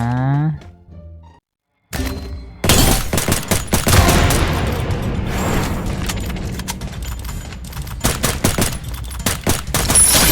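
Dense bursts of gunfire from the Free Fire video game crackle loud and close, rapid rattling volleys broken by a few separate sharp shots after a short game sound and a brief silence.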